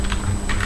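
Quick clatter of keys on a computer keyboard as a code number is entered, several rapid, close keystrokes in a brief burst with no talking.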